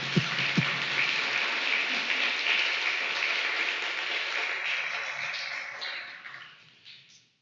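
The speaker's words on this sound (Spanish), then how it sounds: "¿Pueden aplaudir a Dios por eso?" Church congregation applauding, a dense sustained wash of clapping that holds steady and then fades out toward the end.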